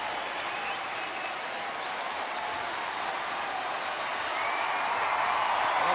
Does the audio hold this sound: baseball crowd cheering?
yes